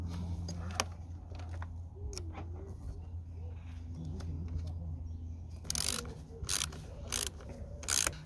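A ratchet tightening the nut on a car battery terminal during a battery change, quick bursts of clicking pawl strokes, close and crisp, with short pauses between turns and brief faint speech.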